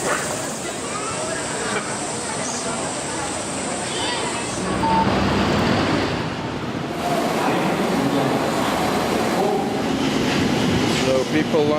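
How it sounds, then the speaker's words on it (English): A Tokyo subway train rumbling at a platform as people line up to board, a loud continuous roar of wheels and motor with rattling and a brief high squeal, underlying station noise and faint voices. "People line up to get on the subway"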